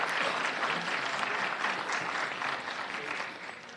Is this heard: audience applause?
yes